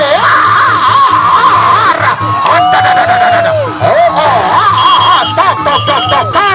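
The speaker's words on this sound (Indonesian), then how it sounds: "Ayo tepuk tangannya penonton." A loud, close crowd at a stick-fighting bout in Lombok cheers and shouts continuously, with whoops and high excited voices filling the whole stretch without a break.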